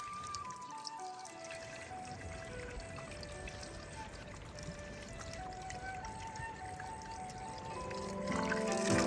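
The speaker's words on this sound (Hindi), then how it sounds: "यहाँ पर मुझे पानी देखने को मिल गया है, पहाड़ों का पानी" Mountain stream water in a village in Arunachal Pradesh, India, pouring and trickling steadily close by, a continuous splashing flow that swells slightly louder toward the end.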